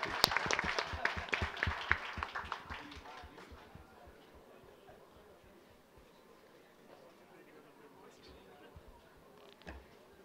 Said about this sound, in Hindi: तालियां तो बजाओ यार